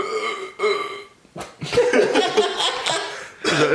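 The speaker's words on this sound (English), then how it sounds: "There's a burp and it wouldn't fucking come out." A long, loud, croaking burp rumbles close to the microphone, broken by short pauses and mixed with bits of laughter.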